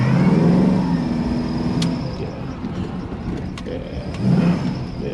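A 1996 Impala SS with a swapped 6.0 LS V8, BTR Stage 3 cam and 4L80e transmission runs steadily and loudly nearby, with a deep rumbling idle. The engine swells slightly near the end.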